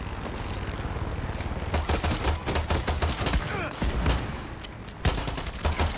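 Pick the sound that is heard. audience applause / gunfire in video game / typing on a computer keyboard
gunfire in video game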